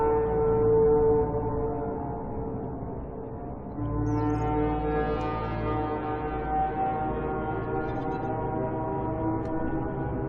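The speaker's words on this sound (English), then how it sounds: "Gun is moving. Or making noises at least." An alien gun in the underwater survival game Subnautica emits a very loud, sustained low droning blast like a foghorn, rising slightly midway and holding steady for about ten seconds with no talk over it.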